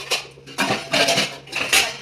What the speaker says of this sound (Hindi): इधर वाली ड्रॉर में रखने वाले सारे बर्तन लगा देंगे।